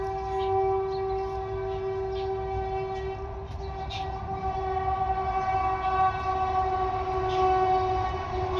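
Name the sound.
train passing by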